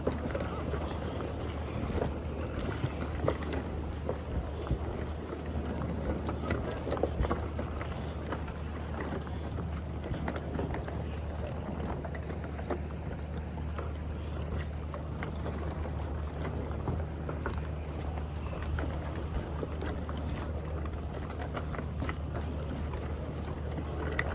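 Boat engine idling and running at a pier on Koh Phangan, a steady low drone with wind and bustle over it, loud and continuous, with faint voices in the background.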